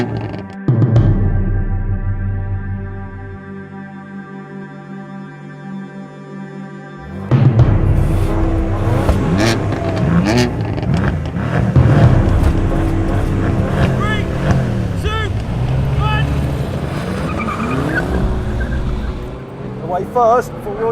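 A 2018 Audi RS5, BMW M4 and Mercedes-AMG C63 S launch in a drag race, a loud burst of engine roar rising sharply after a quieter idle, with a voice talking over the revving and passing cars.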